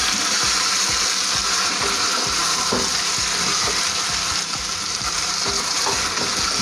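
Chicken frying in a pan as its water cooks out, a loud, steady sizzle and bubbling with occasional stirring scrapes, close and continuous.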